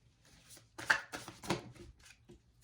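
Playing cards shuffled and drawn during a tarot-style card reading, giving a few soft riffling bursts and light card snaps close by, fairly quiet, with no talk over them.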